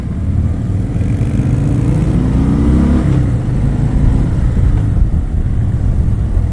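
An 2018 Harley-Davidson Sport Glide with its 107 engine rumbles loud and steady while being ridden, a deep continuous drone with a brief rising rev midway and constant wind rush.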